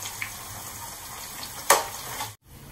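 Garlic and ginger frying in a pan for Telugu-style chicken pickle, a steady soft sizzle with one brief louder crackle near the end before it cuts off.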